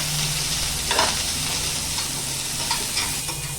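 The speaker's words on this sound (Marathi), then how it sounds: "बारीक गॅस करून ना सतत ढवळत राहून छान असा भाजून घेऊया" Chopped onion sizzles steadily in two spoons of oil over low heat, with a few soft scrapes of a spoon as it is stirred continuously until pink, for a Malvani egg curry.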